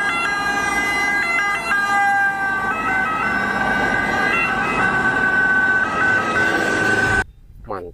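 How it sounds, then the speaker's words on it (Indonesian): A toy ambulance siren wails loudly and close in a repeating electronic pattern for about seven seconds, then cuts off abruptly, leaving quieter background noise. "Mobil ambulan."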